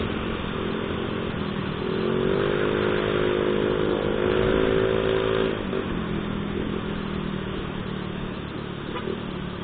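A motorcycle engine running on Shell Advance oil rumbles steadily in traffic, a smooth continuous drone with a brief rise in pitch partway through before settling back, close and fairly loud.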